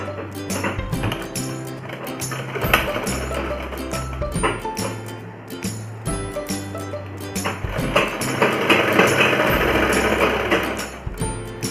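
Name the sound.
sewing machine stitching palazzo fabric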